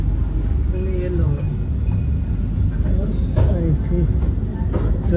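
Inside a moving Dubai Metro train, a steady low rumble of the carriage runs throughout, with voices talking over it.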